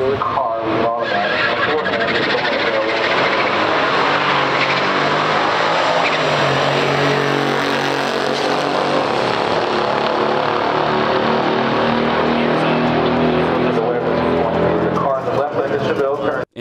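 Loud, continuous roar of a 1969 Chevelle SS 396 and a 1969 AMC Scrambler at full throttle in a stock quarter-mile drag race, close and sustained throughout, with a voice talking over it.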